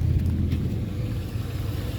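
A Buick Rainier with its stock muffler and resonator idles with a low, steady exhaust rumble, close and moderately loud, without voices.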